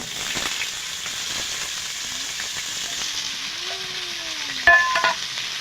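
Steady close sizzling of food frying in hot oil in a pan, with occasional scraping clinks and a brief louder clatter near the end.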